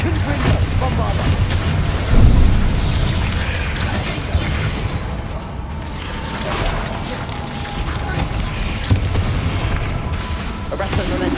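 Explosive spell impacts in Hogwarts Legacy combat, a heavy boom early on followed by sustained crashing, rumbling battle noise; loud and close throughout, with speech mixed in.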